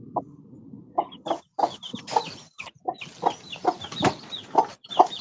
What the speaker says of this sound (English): See the chook with the chickens?